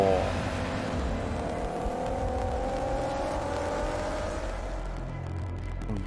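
Forza Motorsport racing game cars roar along continuously, engine tones rising and sweeping as a car passes, holding a steady loud drone throughout with no talking.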